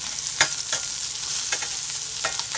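Zucchini frying in olive oil in a hot pan, with salt and pepper, gives a steady close sizzle broken by a few sharp scraping stirs, no voices.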